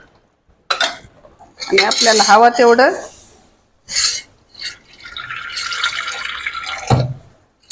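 Cooked dal being poured into a spiced tempering in a pan, a wet slosh and clinks of a metal vessel, close and loud, alternating with someone talking.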